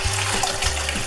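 Hibiscus tea poured through a strainer into a pitcher, a close, steady splashing gush of liquid with low gurgling pulses.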